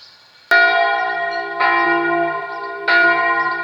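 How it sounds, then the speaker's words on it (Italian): Three strong strokes of the church bell at Braulins, Italy, ring out close by on a Sunday, each leaving a long, humming resonance that overlaps the next. "la chiesa di Braulins con le campane che suonano in questa domenica"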